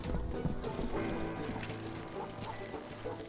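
Horses at the stables on the edge of town in Call of Juarez: Gunslinger, with clopping hooves and a whinny over a busy, faint background.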